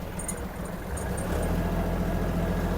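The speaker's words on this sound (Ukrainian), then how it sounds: "Трактор їде вже на другій передачі." Kubota GL-21 Japanese mini tractor drives along in second gear, its diesel engine a steady loud low rumble that grows slightly stronger, with faint high tones flickering early on.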